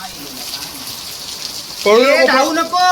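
Rain falls with a soft, steady patter that is briefly heard alone before a voice starts speaking over it.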